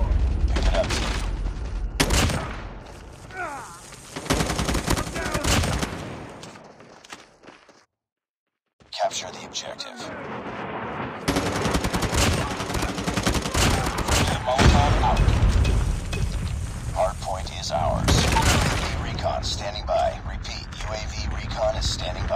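Rapid bursts of gunfire ring out during a Call of Duty Mobile hardpoint match, loud and dense, with a brief silent gap in the middle and game voice callouts heard throughout.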